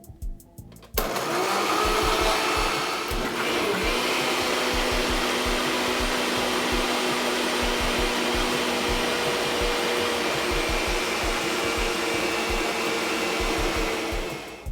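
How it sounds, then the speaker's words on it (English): A blender whirs loudly and steadily for several seconds after a brief start, blending green seasoning with olive oil, its motor roaring without pause. "Now we're going to start blending this."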